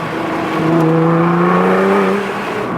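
A Nissan GT-R's Armatrix exhaust roars up through the revs in one quick pull, its rising drone loud and close before easing off.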